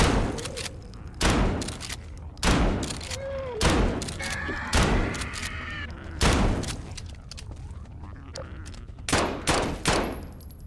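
Gunfire in Garry's Mod on a space map, heard as repeated loud sharp bursts spaced every second or so across the stretch, with ambient game tones and sci-fi effects filling the gaps between shots.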